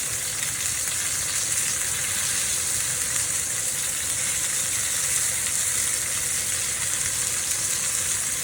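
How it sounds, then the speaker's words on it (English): A smoked porterhouse T-bone steak is reverse seared, giving a steady, loud, dense sizzle that runs evenly throughout without pauses or voices. "This is what we call like a reverse sear, because we smoke it and then we sear it."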